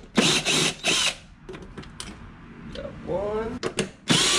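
A power tool removes 10 mm bolts from the engine cover of a 2020 C8 Corvette, in short loud whirring bursts separated by pauses, with a person talking briefly between them.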